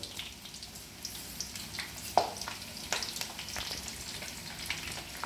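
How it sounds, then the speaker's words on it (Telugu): Curry leaves and spices crackle and spit in hot oil for a tomato pickle, a close, steady sizzle with scattered sharp pops and bursts, one louder snap near the middle, and no talking. "ఇది కొంచెం వేగదించానండి చూడండి ఎలా వేగుతున్నాయో"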